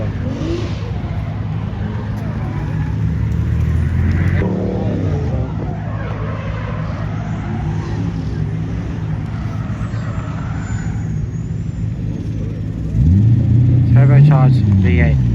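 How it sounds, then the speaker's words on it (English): Turbocharged V8 engine in a 180 revving at a car show, a loud, continuous rumbling roar that rises and falls, with voices talking over it. "Turbocharged V8 in the 180."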